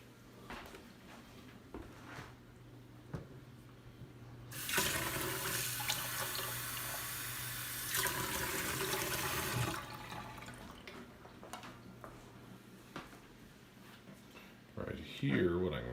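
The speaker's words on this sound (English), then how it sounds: "what I'm going to do is I'm going to add water to this" Water pours from a tap onto two grams of table sugar, a loud broad rush lasting about five seconds in a room, with quieter handling and voices before and after.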